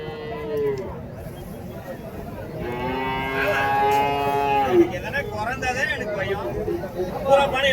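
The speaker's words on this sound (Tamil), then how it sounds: "பசுமாடு எடுத்துகிட்டு வந்திருக்காங்க" Native cows at the Matrapalli cattle market give two long, loud moos, the second rising and drawn out, over steady crowd chatter and nearby talking.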